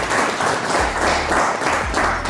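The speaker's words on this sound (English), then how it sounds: "A round of applause please." An audience at a campus innovation fair in a Lusaka hotel gives a brief, dense round of applause, steady clapping filling the room without voices on top.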